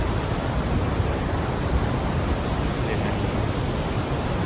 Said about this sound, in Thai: นี่มองลงไปนะครับ เห็นน้ำตก